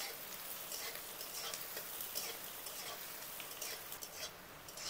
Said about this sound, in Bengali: আদা, পেঁয়াজ আর রসুনটা একটু নেড়ে নেব।